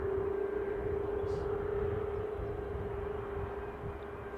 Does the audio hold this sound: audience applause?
no